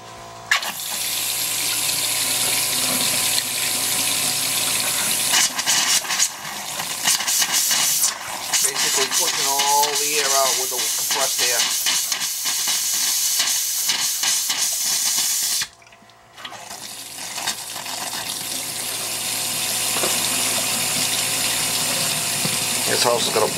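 Faucets opened wide on cold while a house with a boiler and baseboard heat is winterized, giving a loud steady rush and hiss of running water throughout, with a short dip partway and faint talk.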